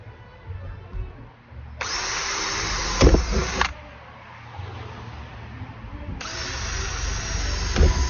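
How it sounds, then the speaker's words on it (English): A power drill bores pilot holes through a camper van roof while fitting a roof fan, whining in two sustained bursts of a few seconds each, loud and close, with faint background noise between them. "Now I'm going to cut 4 pilot holes and 4 larger holes in each corner"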